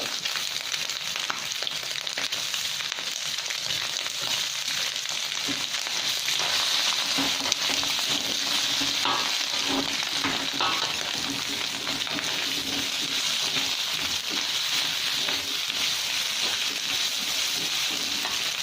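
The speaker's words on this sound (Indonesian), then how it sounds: "kita masukkan bakso terlebih dahulu" Meatballs sizzle loudly in hot oil for mie goreng, a constant dense crackle with occasional scraping of a spatula stirring them in the pan, with no talk.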